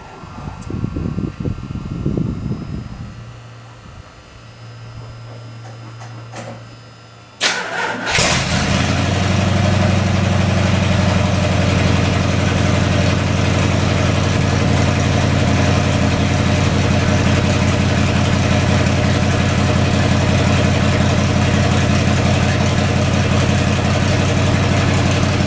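A truck engine cranks and catches, then settles into a loud, steady idle close by after a quieter stretch with faint mechanical sounds.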